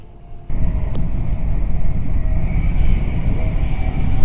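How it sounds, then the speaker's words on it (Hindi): Trains passing on three railway lines near London, a steady low rumble of rolling stock that swells in and holds loud throughout, with no talk. "तीन ट्रेनें ही गुजरी हैं, दो आ रही थी और एक जा रही थी"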